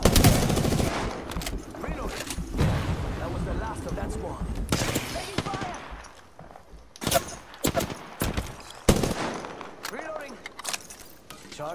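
Bursts of automatic gunfire and sharp single shots ring out in the battle royale shooter Apex Legends, loud at first and then sporadic and separated by gaps, with a player's voice talking between them.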